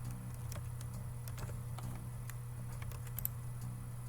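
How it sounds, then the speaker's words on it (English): Typing on a computer keyboard, faint light key clicks in an irregular patter over a steady low hum, no talking. "I'm going to type table of contents first."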